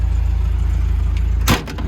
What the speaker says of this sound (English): I'll pop this hood